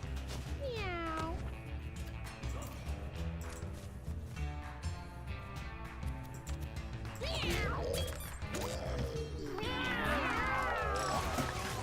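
A cat meows several times, rising and falling cries near the microphone, mixed with game music and a few thumps, and a burst of overlapping yowls toward the end.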